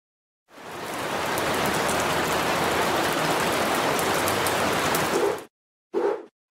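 Steady hissing rain pours down in a children's farm coloring game, a loud continuous wash lasting about five seconds before cutting off, then a short final splash of sound.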